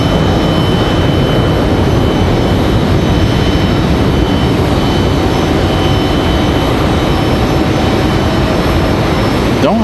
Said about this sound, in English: That was that A321 departure there.